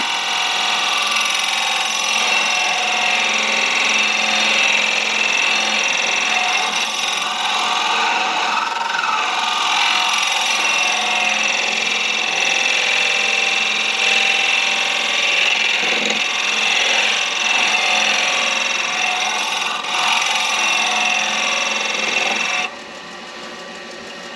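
Old skew chisel leveling a turned pen blank of mixed woods on a lathe, a steady continuous scraping hiss over the whirring lathe, close and even for most of the clip before dropping off near the end.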